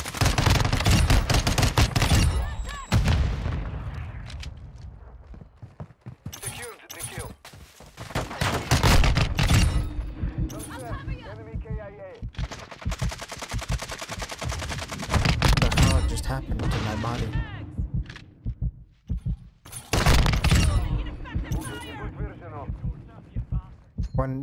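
X12 handgun fire in Modern Warfare II: loud, sharp shots in quick repeated bursts, broken by brief pauses and mixed with other in-game effects.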